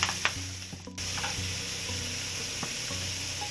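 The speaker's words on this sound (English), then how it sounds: "A little more margarine in the pan." Margarine sizzles in a hot pan for corned beef hash, a steady crackling hiss with a few light utensil knocks and a brief dip near the start.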